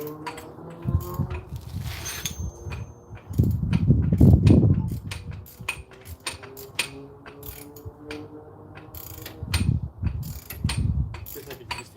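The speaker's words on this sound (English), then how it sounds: "It's pretty nice having those ratcheted wrenches, isn't it?" Ratcheting wrench clicking in short bursts while a driver-side strut is replaced on a 2009 Nissan Altima coupe, mixed with clanks and handling noises of the repair work, fairly close.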